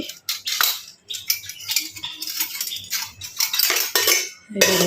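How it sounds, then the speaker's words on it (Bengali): Metal spoons clattering and clinking as they are pushed into a crowded dish rack full of dishes, a busy run of jangling, scraping metal knocks, close by and without talk. "এখানে আর চামচ রাখা যাচ্ছে না অনেকগুলো জিনিস আছে তাই আর ভেতরে ঢুকছে না"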